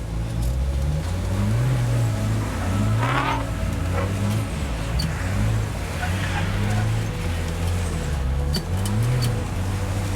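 A Gemini build skids and slides while its engine revs hard and wavers up and down, a loud continuous roar heard from inside the car, with brief tyre squeal over the drone.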